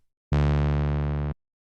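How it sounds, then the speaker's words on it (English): A sine-wave analog oscillator in the Reason synth, routed through a low-pass ladder filter, sounds as a single steady sustained tone lasting about a second with clean start and stop, loud and alone. "I'm going to add a second oscillator, an analog oscillator. I'm going to put this on a sine wave, turn it on"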